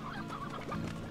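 A brief run of chicken clucks in the video game Slime Rancher, soft and slightly muffled, over a steady low background hum.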